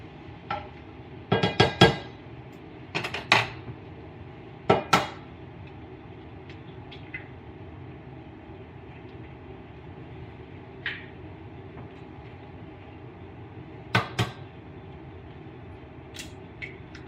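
A spatula works through shrimp fried rice in a pan, making scattered clusters of metallic scrapes and clinks separated by quiet stretches, with no talking.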